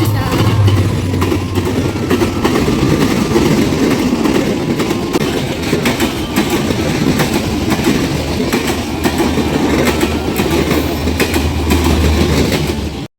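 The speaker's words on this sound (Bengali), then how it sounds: "আমরা সবাই মিলে দাঁড়িয়ে দাঁড়িয়ে ট্রেনটা যাওয়া দেখছি" A passing train produces a loud, continuous rumble with rhythmic rail clatter close by, sustained evenly for the whole stretch as onlookers stand trackside.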